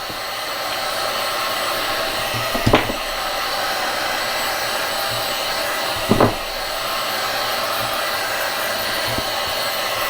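A heat gun set on low blows a steady, loud whoosh while shrinking heat-shrink tubing over an 18650 lithium battery pack, with two brief knocks breaking the constant airflow.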